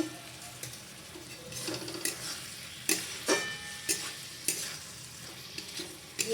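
Vegetables with a pinch of sugar being stirred in a pan, with spoon scrapes and knocks against the metal at irregular intervals over a soft sizzle. No one talks.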